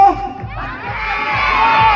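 A crowd at the Mr. and Ms. Abra 2017 pageant shouts and cheers loudly in support of a contestant, a sustained roar of many voices with one shrill voice rising above it.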